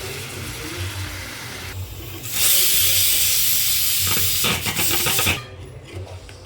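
Hot water poured into a tomato and onion gravy in a hot pan for a drumstick curry, giving a loud, steady steam hiss and sizzle that swells for about three seconds and then eases back.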